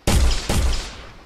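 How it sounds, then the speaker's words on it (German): Two sharp tracer-round gunshots in the horror video game Bigfoot, fired close and loud about half a second apart, each with a short decaying tail. "Lass mich mit dem Tracer schießen!"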